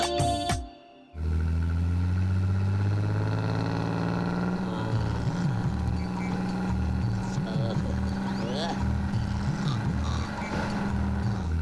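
A bus engine chugs along at low speed, a heavy low rumble that rises after a brief drop at the start, with people talking over it.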